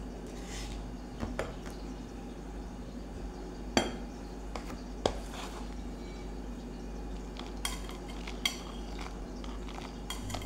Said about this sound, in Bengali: এবারে দেখো আমি 150 গ্রাম খোয়া ক্ষীর নিয়ে এটা আমি গ্রেট করে নিচ্ছি।